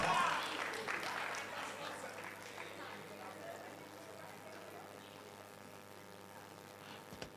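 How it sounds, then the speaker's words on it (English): At a national investment quiz semi-final, the audience claps for the competing schools. The applause is loud at first and then fades away over a few seconds, with a voice carrying on over the tail. "Let's clap for all the schools."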